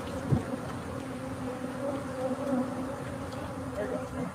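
Swarm of bees loose from an overturned 18-wheeler carrying over 400 beehives in a Texas neighborhood, a constant faint droning buzz at a distance, with no voices.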